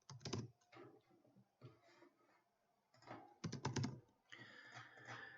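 Typing code on a computer keyboard: quick bursts of crisp key clicks in short irregular runs with brief pauses, close and fairly quiet, with no talking.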